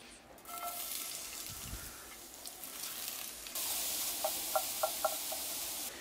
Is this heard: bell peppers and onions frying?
yes